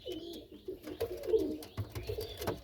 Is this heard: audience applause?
no